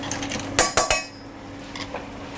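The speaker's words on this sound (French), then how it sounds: "Maintenant, je vais poser mes spaghettis dans ma poêle." Spaghetti lands in a pan of cooking clams with a few sharp metallic clinks and knocks close by, against a low steady hum of the cooking heat.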